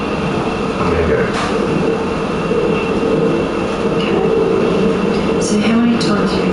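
Steady rumbling interior of a moving train in the video game Platform 8, a continuous low drone with faint clicks and a brief squeal, running unbroken and fairly loud without speech.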